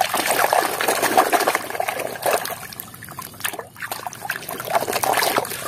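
Water trickles and pours steadily while toys are being washed, a close, continuous splashing stream with slight sloshing changes and no talk over it.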